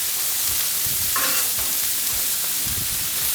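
Chop suey vegetables sizzle loudly and steadily on a hot griddle, with a dense hiss throughout and scattered scraping as they are spread out.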